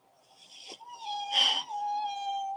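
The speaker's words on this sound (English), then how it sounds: "And that cat you hear, that's Willow. She's in heat." A female cat in heat yowls in long, drawn-out, wavering cries, rising and falling, loud and close, with brief breaks between calls.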